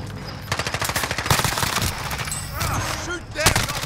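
Rapid automatic gunfire from Call of Duty Warzone rattles in dense bursts, loud and close, with overlapping shots from several weapons and voices talking over the firing.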